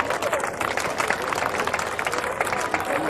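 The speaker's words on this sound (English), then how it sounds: "the crowd's clapping now for the man currently in overall 3rd place" A crowd at the 1988 World's Strongest Man competition claps steadily in a continuous, moderately loud patter, with a commentator talking over it.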